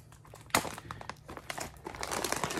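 Tape being snipped and peeled off a plastic green-coffee storage bag, close crinkling and rustling of the bag material with a sharp crackle near the start, quiet and continuous, no talking.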